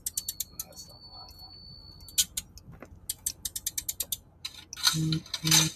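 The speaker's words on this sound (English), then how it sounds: "Handcuff sound effect." Handcuffs click and ratchet in quick bursts of sharp metallic ticks, close and fairly loud, separated by short pauses, with a couple of heavier clacks near the end.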